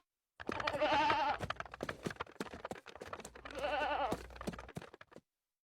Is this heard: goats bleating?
yes